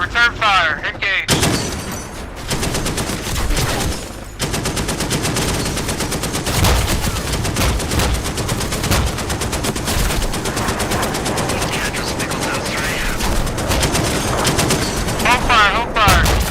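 Dense, sustained machine-gun and cannon fire in the DCS World flight simulator, rattling nearly nonstop at close range with brief gaps, while radio voices talk over it.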